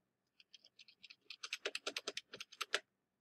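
Keys on a computer keyboard are tapped in a quick, close run of light clicks that grows denser and louder toward the end, with no voices.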